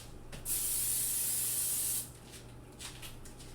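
Cooking spray hisses from a can into a baking pan in one steady burst lasting about a second and a half, followed by faint handling noises and quiet room sound.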